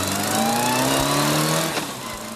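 A race car drives a lap at Mallory Park circuit, its engine heard up close, revving steadily upward through the gears in rising tones before easing off.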